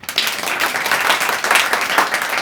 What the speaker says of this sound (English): Give me a clap now.